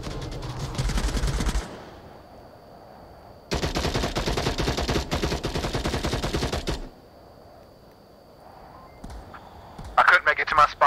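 Gunfire in the VR shooter game Onward: two long loud bursts of rapid automatic fire separated by quieter gaps, then a short cluster of shots near the end, with team radio chatter and a faint tone underneath.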